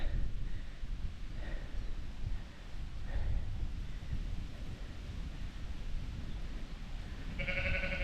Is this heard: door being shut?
no